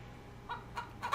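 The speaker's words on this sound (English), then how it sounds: "This is an Animania Plymouth Rock hen. Basically, it's a chicken, okay?" Animania Plymouth Rock hen in modded Minecraft giving a few short, soft clucks spaced apart, quiet and close, with the last cluck the loudest and no talking.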